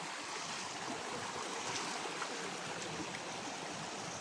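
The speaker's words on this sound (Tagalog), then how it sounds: "Buhay na buhay ang agos ng tubig." A fast-flowing stream rushes over rocks in a steady, dense, close roar of churning water that carries on without pause, with no voices.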